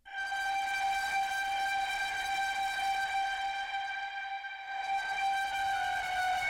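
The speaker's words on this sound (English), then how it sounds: "It's that really nice distorted pad sound." A sustained, buzzy synth pad with bright stacked harmonics holds steady throughout, loud and continuous, briefly thinning near the end before swelling back.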